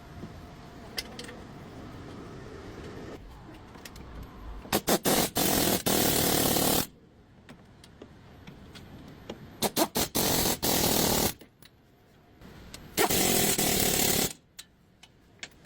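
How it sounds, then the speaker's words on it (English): A pneumatic air impact gun rattles in three loud bursts, each lasting a second or two, while tightening the four 14 mm bolts on a new car wheel hub bearing during a DIY repair, with quieter workshop noise between bursts. "Torque properly, air gun or torque wrench."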